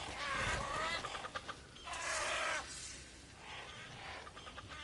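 Grebe birds in the video game Crimson Desert give several close, clucking honking calls in short bursts over a busy game background, with no talking.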